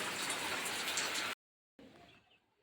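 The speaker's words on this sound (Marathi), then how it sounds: "हे बघा पाणी इकडनं असं यायला सुरुवात झालेला आहे" Steady hiss of rainwater running and trickling after overnight rain, cut off briefly by a silent gap, then returning fainter and fading away.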